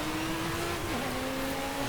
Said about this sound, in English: Nice naturally aspirated engine,